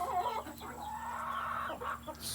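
Chickens being fed in a backyard flock cluck and call in short, irregular bursts close by, with fowl chatter filling the whole moment and no talk over it.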